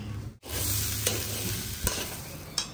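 Rice and lentils frying in a pan with chili powder, turmeric and salt for khichuri, giving a close, continuous sizzle with a few sharp scraping stirs.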